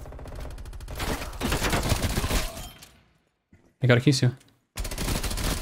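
Rapid bursts of gunfire in Call of Duty: Black Ops Cold War crackle loudly, then a short pause, another sharp volley, and more firing; someone speaks briefly in between.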